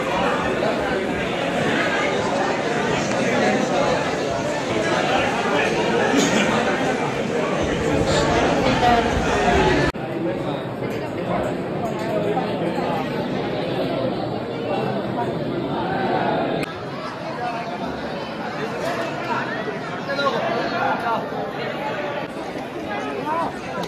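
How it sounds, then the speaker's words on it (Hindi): Dense crowd chatter fills the Mahakaleshwar temple in Ujjain, a steady, close hubbub of many overlapping voices that holds throughout with only brief shifts in level. "बहुत ज़्यादा भीड़ है गाइस"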